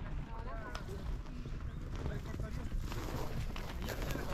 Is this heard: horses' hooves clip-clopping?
yes